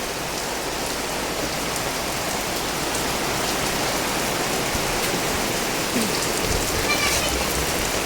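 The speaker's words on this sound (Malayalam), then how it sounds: "മഴയോട് മഴ നിർത്താതെ പെയ്യുന്ന മഴ" Heavy, steady rain falls on a home during a windy downpour, a dense and unbroken hiss that stays loud and even from start to finish.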